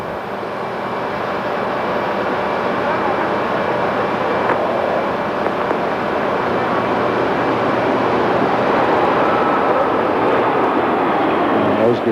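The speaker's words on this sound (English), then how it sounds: "Endeavour rolling out toward its final stop on runway 33" Space Shuttle Endeavour rolls out on runway 33 after touchdown with its drag chute deployed, producing a loud, continuous broadband roar that stays steady throughout and swells slightly toward the end.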